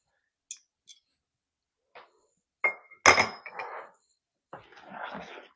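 A spoon stirs an egg into cake mix in a bowl, giving sparse close clinks and taps against the bowl with short scraping bursts near the end.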